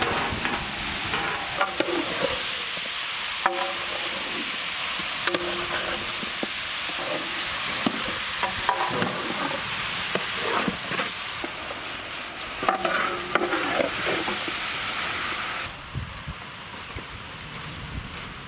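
Chicken pieces with turmeric powder sizzle and spit loudly in a hot pan, with repeated scraping and stirring strokes throughout and a brief quieter patch near the end.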